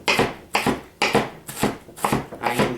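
Knife chopping an onion on a board in a steady rhythm, about six crisp strokes, close and clear with no talking.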